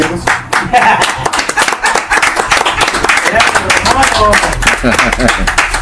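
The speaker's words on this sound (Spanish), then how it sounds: "nos vamos con el aplauso a nuestros invitados con mucho cariño" An audience claps for the guests of a rock music talk show in a burst of dense, close applause lasting several seconds, with voices mixed in.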